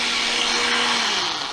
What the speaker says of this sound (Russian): Так, все, блендерим.